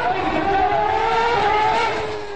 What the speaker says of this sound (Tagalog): Excited ang mga Pinoy na marinig sa unang pagkakataon ang lakas ng tunog ng makina ng isang F1